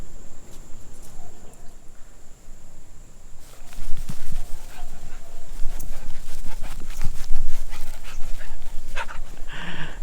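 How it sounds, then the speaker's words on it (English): A large, goofy dog jumps around outdoors in a rural setting, with loud panting, snuffling and scrabbling feet close by. Steady background hum and light clatter come through for about ten seconds. "Goofy dog's gonna knock me down."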